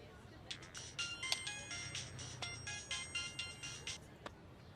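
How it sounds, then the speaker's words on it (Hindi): A phone ringtone plays in a repeating melodic pattern of short electronic tones, moderately close, stopping just before the end against quiet room background. "किसका फोन है?"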